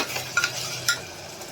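A spoon stirring eggplant and potato curry in a pan with garlic chutney and coriander-cumin powder, a few short scraping strokes over a soft sizzle.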